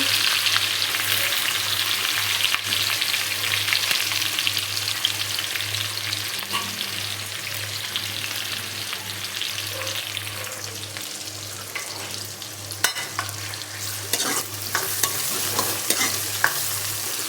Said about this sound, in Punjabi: ਤੇਲ ਪਾ ਲਿਆ ਹੁਣ ਮੈਂ ਪਿਆਜ਼ ਲੱਗੀ ਪਾਉਂ